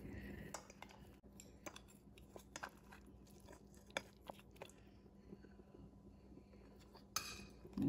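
Stir-fried crab with garlic being eaten at a home dinner: quiet, close clicks and clinks of utensils mixed with sporadic bites and crunchy chewing, with no talking.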